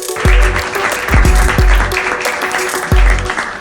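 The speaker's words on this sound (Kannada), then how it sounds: "ಜೋರಾದ ಚಪ್ಪಾಳೆಯೊಂದಿಗೆ ಅವ್ರನ್ನ ವೆಲ್ಕಮ್ ಮಾಡೋಣ" An audience welcoming a speaker on stage at an education talk, with a burst of applause and a few loud thumping bangs over a hall's reverberant murmur.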